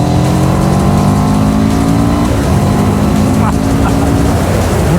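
CFMOTO 700 CL-X motorcycle in sport mode, its engine revving hard and pulling strongly, with steady engine harmonics, a brief shift near the middle and continuous wind rush throughout.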